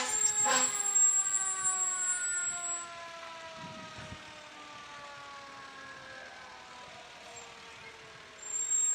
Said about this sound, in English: truck number 1 is coming